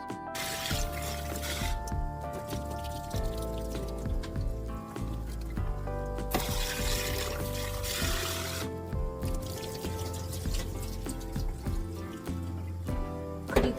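Hot water is poured over red beans left to soak for mixed grain rice, a running splash and trickle with clinks of kitchenware that stops and starts several times, with no voices.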